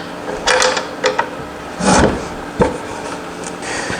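Carriage bolts being tightened on a wooden two-handled carpenter tool box held together without nails or glue: close, loud scraping and rubbing bursts of wood and metal, several short strokes with gaps between.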